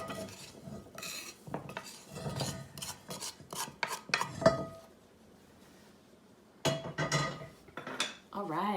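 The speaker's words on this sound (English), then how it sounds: "So I'll take this freshly roasted cumin and transfer it into my mortar and pestle." Freshly roasted cumin seeds are tipped and scraped into a mortar and pestle, producing close clinks, rattles and scraping of metal against stone in several bursts separated by a quiet pause.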